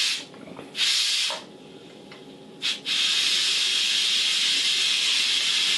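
Steam hisses out of pressure cookware as its pressure is released, beginning with short bursts and then settling into a loud, steady, close rush that keeps going to the end.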